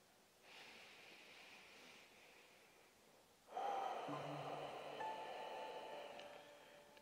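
Slow, natural breathing during a prenatal yoga session: one soft, airy breath, then a second fuller, louder breath, close and quiet, with no talking.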